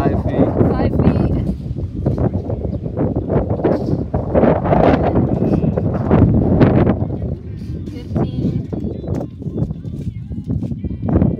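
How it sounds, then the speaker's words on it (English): Strong gusts buffet the microphone in a loud, constant roar of rushing air, with a person speaking intermittently underneath. "And then it's really windy."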